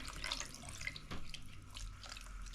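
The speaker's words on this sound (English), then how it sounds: "So we're just gonna add that water." Water running into a cooking pot for a Cajun deer sauce piquante, a soft steady splashing and trickling, faint and close with no talk.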